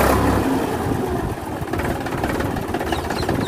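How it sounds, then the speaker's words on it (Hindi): A farm tractor engine in a Punjabi village runs right after being started, a loud low rumble with uneven revving pulses that settles into a rough, steady chug, with no talking. "चलो जी हो गया ट्रैक्टर भी स्टार्ट।"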